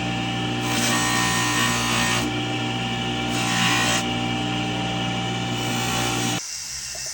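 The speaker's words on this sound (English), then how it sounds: "I just need to polish the edges and the face of it across" A powered polisher works the edges and face of a fingerprint pendant, a loud continuous whir with rhythmic surges of rasping friction as the piece is pressed and eased, then the motor drops away near the end.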